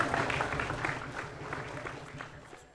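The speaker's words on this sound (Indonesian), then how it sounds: "terima kasih tepuk tangan" Audience applause at a school pantun performance taped for TVRI, a dense wash of many hands clapping at moderate volume that tapers off toward the end, with some voice mixed in.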